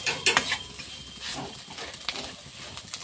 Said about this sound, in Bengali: আলুটাকেও ভালোভাবে ম্যাশ করতে হবে মশলার সঙ্গে